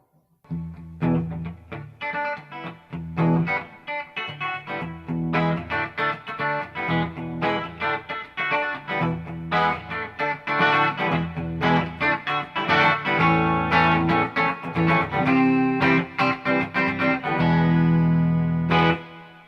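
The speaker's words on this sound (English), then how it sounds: "That's a very usable reverb sound." Electric guitar through a Quilter 101 Reverb Mini Head amp with its reverb on, playing a busy run of strummed and picked phrases with a driven tone and a lingering spacious tail, loud and alone.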